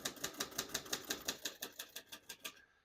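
Typing on a 1949 Royal Quiet De Luxe portable typewriter, a steady run of about fifteen crisp key strikes at an even brisk pace, close and clear, ending abruptly.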